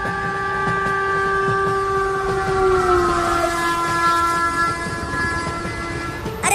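A train runs along the track with a steady rumble while a long, sustained horn tone sounds over it and slowly drops in pitch, loud and close.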